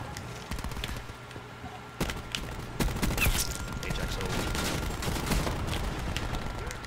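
Gunfire from the Call of Duty Black Ops 4 video game, with rapid bursts and scattered shots from an ABR 223 rifle crackling through a busy multiplayer battle, loud and continuous beneath a player's talk.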